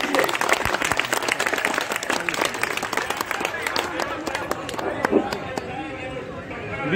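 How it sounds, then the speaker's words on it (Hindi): A crowd at a teachers' recruitment gathering in Gardanibag, Patna, gives loud sustained applause to welcome a Paliganj legislator, with dense clapping that fades slightly toward the end and a few voices underneath. "आप लोग जोरदार तालियों से स्वागत कीजिए।"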